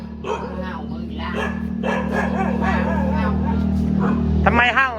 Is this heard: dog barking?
yes